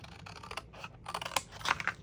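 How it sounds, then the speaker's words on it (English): Scissors snip through a cardboard crayon box in a few short, crisp cuts with rustling in between, heard up close and fairly quiet. "So we're just going to take this and cut it right here."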